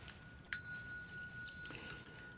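A single bell struck during a Buddhist chant rings out clearly, its bright tone ringing and decaying slowly over a quiet background.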